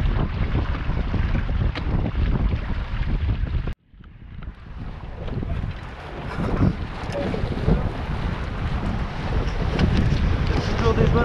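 Strong gusts roar across the microphone aboard a small mini sailboat underway on the water off the Vendée coast, a dense continuous rush that drops out briefly before building back, with water and hull noise beneath.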